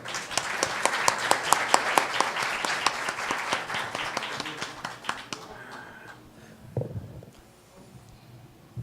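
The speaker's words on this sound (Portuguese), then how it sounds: "peço aplausos de boas-vindas" Audience applause welcoming a lecturer at the Academia Mineira de Letras, a dense, steady clapping crowd for about five seconds that then stops, followed by faint room noise and a brief low thump.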